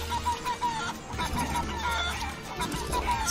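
Repeated clucking from the chicken move in the video game Guacamelee! 2, short warbling clucks coming in a quick uneven series at moderate level over game music.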